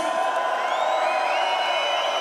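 A festival crowd at Tomorrowland Winter 2019 cheers and screams for Armin van Buuren. The roar is dense and sustained, with high whoops and shrieks rising above it, and it holds at a steady loud level throughout.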